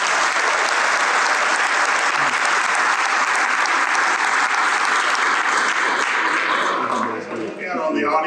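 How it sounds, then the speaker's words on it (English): An audience at a Toyota event in Mississippi gives a long, loud round of applause that stays dense for several seconds before thinning out near the end, with some voices mixed in. "Let's give Toyota a round of applause."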